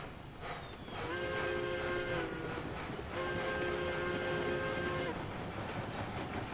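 A steam locomotive in the railroad game Railroads Online sounds two long whistle blasts over a hissing, chuffing train, each blast lasting about one and a half seconds, close and loud.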